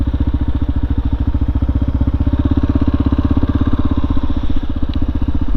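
A 2017 Kawasaki KLR 650 motorcycle out riding, its single-cylinder engine thumping in a fast, even pulse that stays close and loud throughout.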